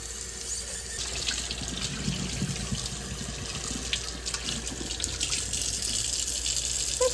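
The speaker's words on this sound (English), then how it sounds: "Okay, rinsing time." A running tap splashes steadily as antique pieces are rinsed under it, a continuous close water hiss with faint knocks of handling and no voices.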